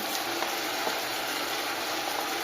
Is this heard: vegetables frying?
yes